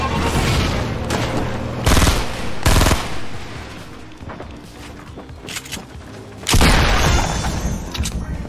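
Gunfire in the video game Fortnite: several loud bursts of automatic fire and sharp shots with gaps between them, close and punchy, with no talk.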